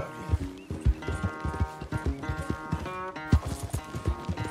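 Horse hooves clip-clop in a quick, uneven rhythm in the video game Red Dead Redemption 2, close and fairly loud under game music, with a brief whinny.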